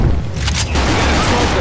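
Gunfire in Left 4 Dead 2 on the Dark Carnival campaign, a dense, loud clatter of shots blending with zombie chaos, holding steady throughout with a brief sharp burst near the middle.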